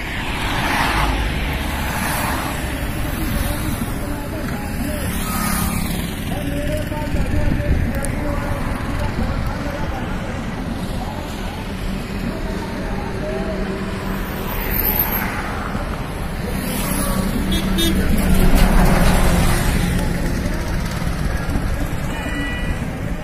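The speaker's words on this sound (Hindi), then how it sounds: "और गाड़ियों के काफिले" A convoy of vehicles rolls past a toll plaza during a farmers' march toward Delhi, a continuous wash of engine and tyre noise with surging passes and heavy wind buffeting the microphone outdoors.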